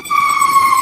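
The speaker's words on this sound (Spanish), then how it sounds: "Tengo como una ambulancia" A steady, high-pitched electronic ambulance siren tone holds without wavering for under a second, loud and close, with no voices.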